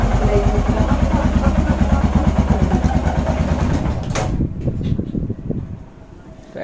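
A Royal Enfield Himalayan single-cylinder engine idles steadily at about 1100 rpm after carburetor jetting, with a close, even thumping that continues for most of the clip. Near the end the sound cuts off abruptly and leaves faint clanks and background noise.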